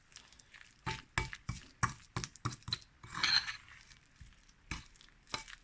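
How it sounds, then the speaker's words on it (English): Soft butter mixed in a bowl with a spoon: a series of close clinks and scrapes of metal against the bowl in an irregular rhythm, with a brief smeary rustle partway through and no talk. "Now I'm just going to mix the whole lot in together"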